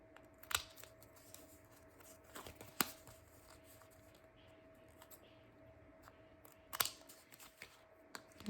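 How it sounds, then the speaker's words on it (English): Paper edges being trimmed with a cornering tool for junk journal postage stamps, a few sharp, isolated snips and clicks spaced irregularly over a quiet, faintly humming background. "cornering tool and just snip"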